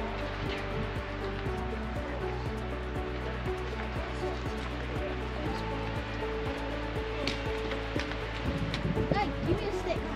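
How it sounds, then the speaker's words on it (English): Waterfall beside a hiking trail in Montana, heard as a steady broadband rush throughout, with people talking nearby at times and footsteps crunching along the trail. "I can hear another waterfall."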